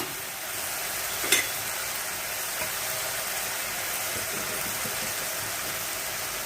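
Spices fry in hot oil in a pan, a dense, steady hiss and sizzle, close and loud, with one sharp scrape of the utensil early on.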